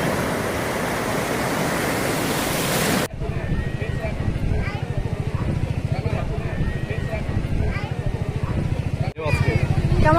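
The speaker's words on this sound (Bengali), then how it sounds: "এই দেখেন ঢেউ" Morning surf breaking on Laboni Beach at Cox's Bazar, a steady loud wash of waves, with people talking nearby over the roar for most of the stretch.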